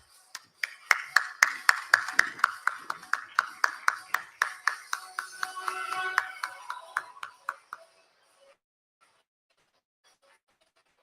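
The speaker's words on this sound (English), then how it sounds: "I request everyone to give them a round of applause." Conference audience applauds panelists at an international healthcare conference, a burst of steady rhythmic clapping from a modest crowd that swells, then fades out after about eight seconds, leaving near silence.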